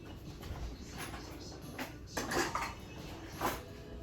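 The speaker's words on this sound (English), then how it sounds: "Now I'm gonna cut it." A knife cuts through apple turnovers on a board, with soft clicks and taps of the blade and dishes spread across a few seconds, close and quiet, with no voices.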